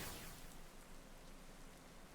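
Steady rain weather effect from a Pokémon battle game, a continuous soft hiss of falling rain filling the whole stretch at moderate level with no other sounds.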